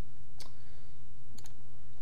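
Computer mouse clicks, a single sharp click and then a quick pair of clicks, close and crisp over a steady low hum.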